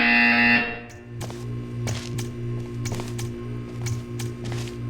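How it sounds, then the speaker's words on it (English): Buzzer in Portal 2 sounding loudly for about half a second, followed by a steady low electronic hum broken by repeated soft clicks and taps. "You will hear a buzzer."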